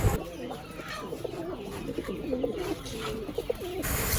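Giribaz pigeons coo at the Nilganj pet and bird market in Barrackpore, soft throaty calls repeating through steady, busy market noise with faint voices in the background.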